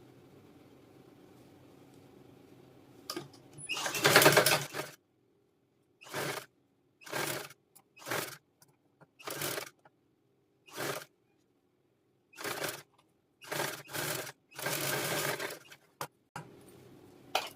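Short bursts of a sewing machine stitching a princess cut blouse, about ten separate runs of rapid stitching broken by quiet pauses, fairly close and moderately loud, no talking.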